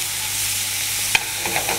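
Bacon frying in a pan alongside monkfish, a steady bright sizzle with a few small pops and crackles, close and unaccompanied by speech.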